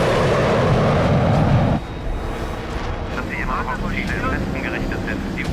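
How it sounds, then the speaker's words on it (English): A German World War II jet aircraft roars loudly overhead for nearly two seconds, then its noise drops to a lower, steady rumble while voices speak over it. "It's a goddamn Nazi plane. They've got jets too?"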